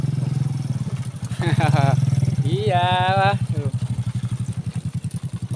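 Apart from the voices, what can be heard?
motorcycles passing near Mount Guntur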